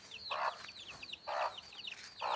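Domestic country hens cluck in repeated bursts close by, with softer high peeping of their chicks running throughout in the background.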